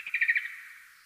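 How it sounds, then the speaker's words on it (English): Time-expanded ultrasonic echolocation calls of a bat come through as a short cluster of high, chirping tonal sweeps, bird-like and fairly faint, trailing off into quiet. "So this is a process called time expansion, and now you could kind of hear what the calls sound like."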